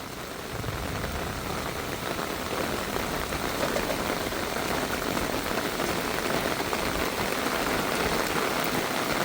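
Rain falls steadily at a home, a dense, even hiss of drops on surfaces that stays constant throughout, fairly loud and without voices.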